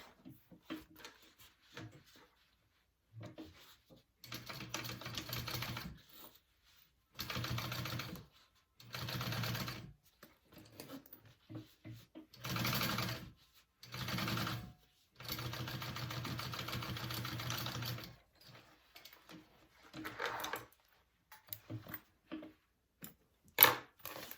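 A sewing machine top stitches a crossbody bag in a series of bursts, each a few seconds of rapid needle clatter with short pauses between, close and fairly quiet.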